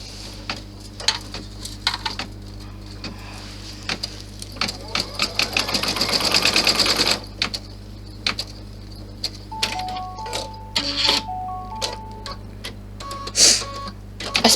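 An in-the-hoop embroidery sewing machine stitches a strap placement on a 40-inch bag strap, a rapid close mechanical patter in bursts with a constant low hum beneath, plus a few brief electronic beeps.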